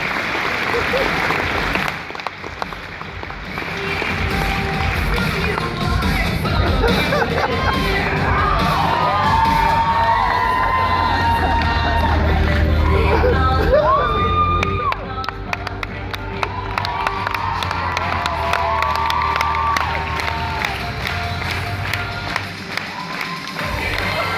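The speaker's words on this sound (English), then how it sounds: "Cue applause" Graduation audience at a St. Michael High School ceremony erupts in applause, cheering and children's shouts and whoops, a loud, sustained crowd roar with shifting voices over about twenty-four seconds.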